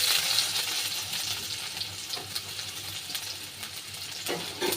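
Dried chillies, garlic and raw onion fry in hot oil, giving a steady, close hiss of sizzling with faint stirring scrapes through it and no talking.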